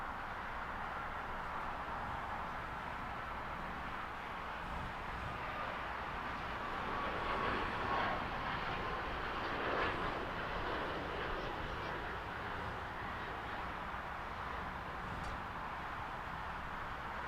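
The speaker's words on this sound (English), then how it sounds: "Heavy Airbus, actually heavy Dreamliner short final." A Boeing 787 Dreamliner on short final to runway 25 left at Los Angeles International Airport, heard as a steady, moderately loud jet roar that swells slightly midway and holds throughout, with no talk.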